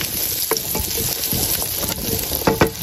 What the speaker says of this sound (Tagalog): Lagyan na natin yung garlic. Ayan, halo lang natin.